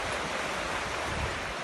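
Water of the River Swale rushing steadily outdoors in the Yorkshire Dales, a continuous broadband wash with some wind on the microphone, no voices.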